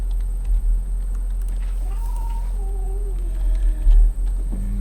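Minecraft cats meowing in a video game, a few drawn-out mews rising and falling over a steady background hum, fairly close and alone with no talk.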